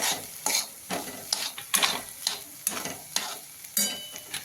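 A spoon stirs bottle gourd and chana dal curry in a pan, with garlic paste and coriander added. Rhythmic scraping strokes repeat about every half second over a soft sizzle, close and fairly loud.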